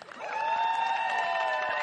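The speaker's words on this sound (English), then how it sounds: "Can we get a cheer?" A crowd at a women's flag football national championship final between Queensland and New South Wales cheers in a sustained, loud swell of many voices for under two seconds.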